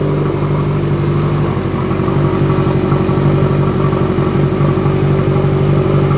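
A motorcycle fitted with an aftermarket Van Diemen exhaust idles loudly and steadily at close range in a garage, with a deep, continuous throbbing burble and slight rises in revs, and no talk over it.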